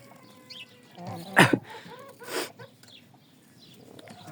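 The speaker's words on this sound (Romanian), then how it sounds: "Mai am și un cocoș de pitic." A bantam rooster with a rose comb at a small backyard farm gives one short, loud call near the middle, set against a faint hum of the farmyard.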